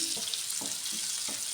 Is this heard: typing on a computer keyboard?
no